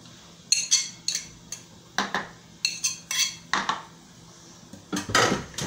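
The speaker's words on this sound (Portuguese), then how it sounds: "vamos misturar o creme de leite, tudo junto aqui com a maionese, ó, a gente mistura tudo" Ingredients including onion, parsley, cream and mayonnaise being mixed in a bowl for gratin potatoes, heard as a series of sharp utensil clinks and scrapes against the bowl in irregular bursts, close and fairly loud, with no talking.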